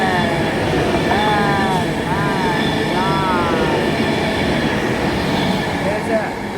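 An Avanti West Coast Class 390 train roars through Marston Green station without stopping, loud and close, with a steady rumble and intermittent high wheel squeals.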